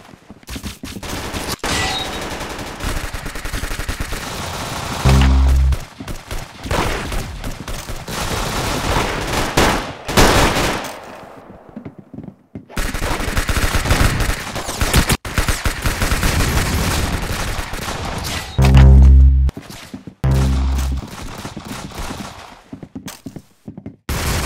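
Rapid gunfire in a video game, with repeated loud bursts of automatic shots and heavier thumping impacts scattered through, broken by brief quiet gaps.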